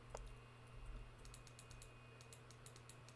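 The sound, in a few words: aggressive computer clicking while playing Sons of the Forest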